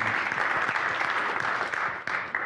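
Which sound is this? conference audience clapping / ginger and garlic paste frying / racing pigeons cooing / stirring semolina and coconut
conference audience clapping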